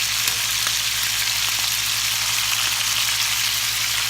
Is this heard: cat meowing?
no